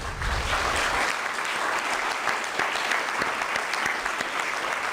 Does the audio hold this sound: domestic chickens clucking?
no